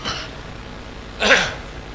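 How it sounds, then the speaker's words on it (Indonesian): A single short cough near the middle, fairly close, against a quiet hissing background with no talking. "Kenapa jadi batuk sih?"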